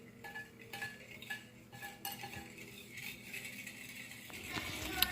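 A utensil stirs a pork tocino marinade in a bowl, giving faint, irregular clinks and scrapes against the dish that build slightly toward the end, quiet and close.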